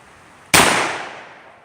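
A single loud shot rings out from a Ruger Old Army cap-and-ball revolver, with a sharp crack followed by a long, fading ringing tail. No other sounds accompany it.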